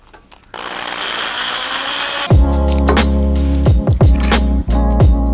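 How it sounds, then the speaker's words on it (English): A power drill fitted with a foam pad buffs paint on a vintage guitar, a loud whirring motor that revs up and cuts in and out in short bursts after a hissing start. "I'm using a power drill with a foam pad on the end."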